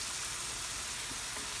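Chicken and tomato fry in a heavy pan that holds heat well, producing a constant close-up sizzle with no breaks and no talking.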